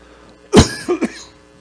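A single sharp cough followed by two smaller throat-clearing coughs from a preacher, close and loud in an otherwise quiet room.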